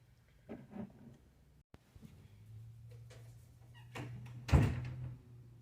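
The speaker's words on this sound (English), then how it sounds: "If you guys heard my door slam." A bedroom door slams once, a fairly loud, sharp thud late in the moment, following a few softer knocks and shuffles over a low steady hum.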